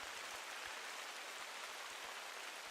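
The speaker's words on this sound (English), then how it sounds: "Trouble is with the rain though" Steady rainfall in the hunting game The Hunter: Call of the Wild, a constant broadband hiss of rain on the ground with a few soft low thumps underneath, no talking.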